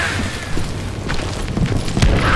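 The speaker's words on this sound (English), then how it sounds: "Time to blow your shit up." An explosion in a video game, heard as a loud, sustained low boom that keeps rumbling for the whole short stretch, with no voices over it.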